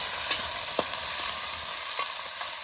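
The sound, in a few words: peas added to pan and stirred, frying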